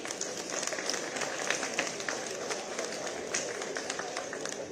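An audience claps steadily at a technical education department appointment ceremony in Dehradun, producing a sustained, somewhat distant wash of applause with a few sharper individual claps standing out.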